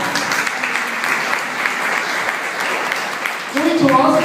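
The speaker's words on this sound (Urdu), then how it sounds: "بولے ہاللیلویا, جائیے یسوع کے لیے تالیاں" Church congregation applauding for Jesus during a Urdu sermon, a steady dense wash of clapping held throughout, swelling near the end as a voice and music-like tones join in.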